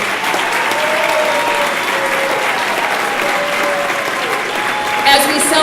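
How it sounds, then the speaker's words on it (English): Steady audience applause fills the room at the Gilroy Chamber of Commerce Spice of Life Awards ceremony, a continuous even patter of many hands with a few voices mixed in. "please give them all a round of applause."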